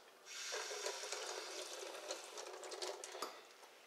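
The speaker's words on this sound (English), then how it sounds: "I'm gonna have to put a little water on the outside like this." Water is poured over the outside of a frozen tofu container, making a faint, steady splashing trickle with small irregular spatters, heard close and alone for a few seconds.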